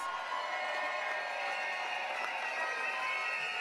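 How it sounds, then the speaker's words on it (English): Convention crowd at a People's Action Movement gathering applauding and cheering for the Premier of BVI, a steady, fairly distant wash of clapping and voices that holds evenly throughout. "give the Premier of BVI a rousing round of applause"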